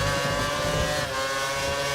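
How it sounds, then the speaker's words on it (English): Formula One race cars in the video game F1 2013 at Monaco scream past with a loud, high-pitched sustained engine whine and shifting revs, dense and close, with no talking. "Cars diving into the pits."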